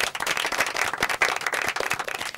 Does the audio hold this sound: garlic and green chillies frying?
no